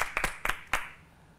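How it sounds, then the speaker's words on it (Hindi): Audience applause at a televised game show, a few sharp separate claps close by, fading quickly into silence. "तो उनके लिए आप लोग तालियां बजाएं।"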